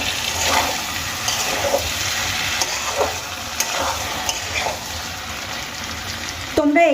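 Potatoes, peas and paneer being sautéed in a pan for a Bengali-style curry, giving a steady near sizzle with scattered stirring clicks and scrapes throughout, brief clatter at the end.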